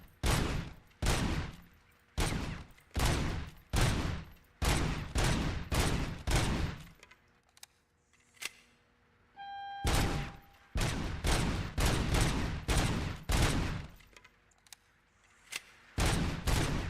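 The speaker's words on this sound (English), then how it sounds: "I don't like that this pistol fires, I think, 2 shots," Repeated pistol shots from a police sidearm in the shooter RoboCop: Rogue City, fired in rapid bursts of paired cracks with short pauses, loud and close, with a brief lull midway and no talk over them.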